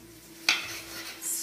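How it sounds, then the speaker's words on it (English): Spoon stirring seven cups of sesame seeds into a thick honey and sugar mixture in a pot, a single sharp scrape and clink followed by soft sticky shuffling. "The 7 cups of sesame seeds are now going into the honey and sugar mixture"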